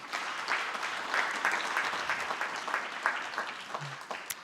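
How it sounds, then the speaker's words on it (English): Applause from an evening audience at a housing authority network summit fills the room, a dense, sustained patter of many hands clapping at moderate loudness with no speech on top. "Please give yourselves a round of applause."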